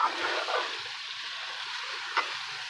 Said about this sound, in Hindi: अब इसको अच्छे तरीके से मिक्स करेंगे।